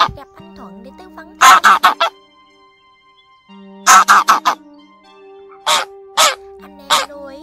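Wild goose calls meant to lure a flock ring out as loud, close honks in clustered bursts of two to five, with a steady low drone sounding between them.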